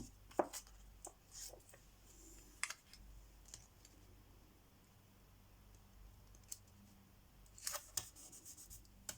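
Scissors cut through paper at a craft table, making quiet scattered snips and crisp rustles in short bursts over a very faint background, with no talking.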